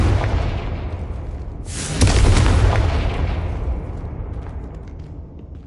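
A Confringo fire spell explodes in Hogwarts Legacy with one loud, close boom that hits sharply and then rolls out into a long, fading rumble over several seconds.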